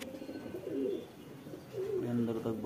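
Soft, low cooing of rain-soaked pigeons in a couple of gentle phrases, fairly close, with faint background noise and no clear speech.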